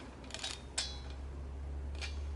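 Several small, faint mechanical clicks from a Pullip doll's eye mechanism, scattered over a couple of seconds above a low steady hum.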